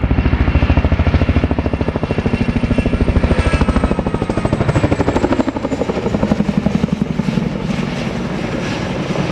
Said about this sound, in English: The aircraft pitching up again into another pedal turn.